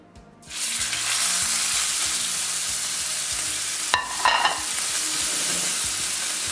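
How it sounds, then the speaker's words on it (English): A New York strip steak hits a smoky pan of hot groundnut oil, bursting into a loud, steady sizzle after a brief quiet start, with a few louder spitting crackles midway. "So what we do now is add the ground nut oil, cover it, then we add our steak."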